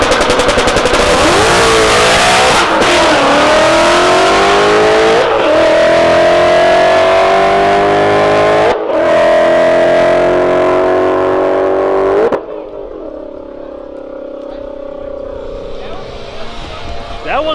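Race cars at an Anything Goes Showdown drag event blasting off the line and revving hard, loud sustained engine roars with rising pitch sweeps, sharp cut-offs between runs, then a quieter lingering drone.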